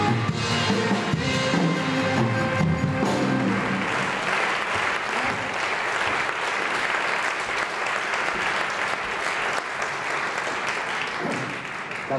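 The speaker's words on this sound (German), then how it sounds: "holen wir sie auf die Bühne mit einem entsprechenden Applaus." Audience applause for Swiss Press Photo award winners brought on stage, a loud, dense and sustained crowd clapping, with music fading out in the first few seconds.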